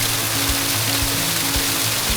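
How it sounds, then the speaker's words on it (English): Water pours steadily down a stone Inca drainage channel in Yucay, Sacred Valley of Cusco, a continuous close rushing with soft rhythmic low thumps as it strikes spots along the channel. "This is an Inca drainage system. Water comes down the channel."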